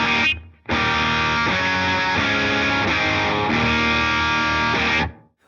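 Electric guitar through a BIAS amp model set to three preamp tube stages, a loud, distorted chord held and re-struck for several seconds, then cut off, with no talking.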